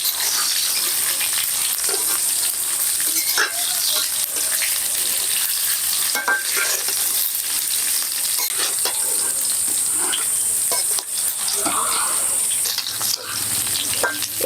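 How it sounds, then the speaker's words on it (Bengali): Pre-fried chicken pieces tossed back into a hot pan with curry leaves for restaurant-style Chicken 65, a loud, continuous sizzle broken by frequent stirring scrapes and clinks of a utensil against the pan. "চিকেনগুলো দিয়ে এবার আমি ভালোভাবে ভেজে নেব।"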